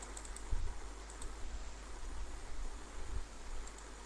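Soft, sparse keystrokes on a computer keyboard while text is entered in AutoCAD, faint against a low steady hum.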